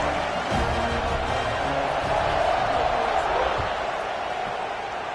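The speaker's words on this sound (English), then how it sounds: "this crowd is buzzing after that last score" A stadium crowd in a college football video game, LSU at Florida, buzzes with a steady dense roar throughout, with faint commentary-like voices mixed underneath.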